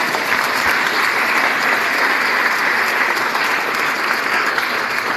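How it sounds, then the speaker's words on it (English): An audience at a political meeting bursts into a steady, dense round of clapping, loud and sustained throughout with no break. "I think we give her a round of applause for that."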